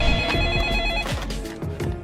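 A telephone rings on a line dialed to the electricity office, a loud, bright electronic ring in repeated rapid bursts with no voices over it.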